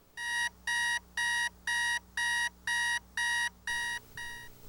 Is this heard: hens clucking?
no